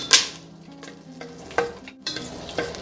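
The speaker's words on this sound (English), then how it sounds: "I'm just gonna move them around like this until they release their flavor a little bit and they get slightly translucent" Nopalitos cactus pieces frying in a pan and being stirred around, giving a soft continuous sizzle broken by a few sharp scraping clicks of the utensil against the pan, with no talking.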